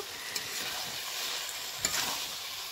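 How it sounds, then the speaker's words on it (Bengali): Chicken sizzles steadily in a hot pan while being sautéed and stirred, a close, even hiss with a couple of brief scraping clinks from the utensil and no voices. "চিকেন এখন কষানো হচ্ছে।"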